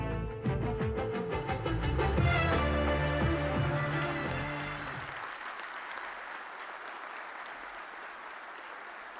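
Mourners applaud at a funeral ceremony for a singer at Cemal Reşit Rey. Loud, dense clapping fills the first half, then thins and fades into softer scattered claps and background murmur.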